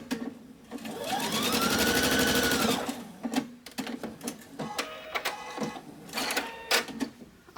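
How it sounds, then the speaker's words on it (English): A sewing machine stitches quilt rows together in a steady whirring run lasting about two seconds, followed by shorter bursts of stitching and the clicks and knocks of fabric handling. "you're sewing these rows together,"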